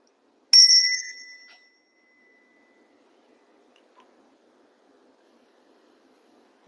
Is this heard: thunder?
no